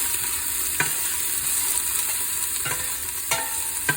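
Onions sizzle steadily in a frying pan while a utensil scrapes and stirs them in a few distinct strokes, a close, continuous hiss with sharp clicks, no voices.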